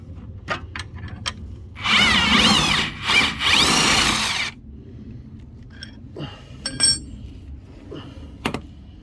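Impact gun loosening a large bolt on a BMW 5 Series front spring, a loud two-second buzzing whir followed by scattered metallic clicks and taps as the bolt is worked free.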